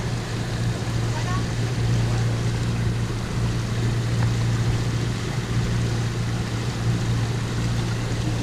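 The boat Babylone motors at about six knots out of Port-le-Cat toward Carnon, with a steady low engine drone and a continuous wash of water, close and unbroken throughout.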